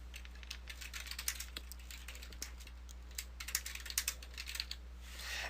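Code being typed on a computer keyboard in Dreamweaver, with quick, uneven key clicks in bursts, quiet and close, over a steady low hum, and no talking.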